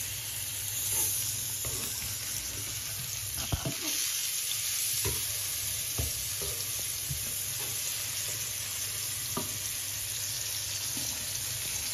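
Hilsha fish fry in a pan after being flipped, crackling in a steady oily sizzle with scattered pops and utensil taps, close and continuous without speech.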